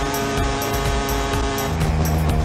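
Racing game traffic noise as two cars pass very close to a motorcycle, a steady loud engine roar with tonal whine and brief tire squeal-like accents throughout.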